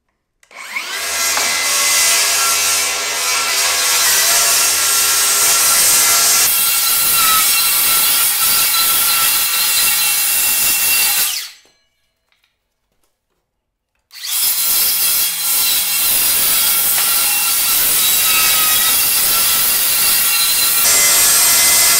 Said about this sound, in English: it's called a plunge cut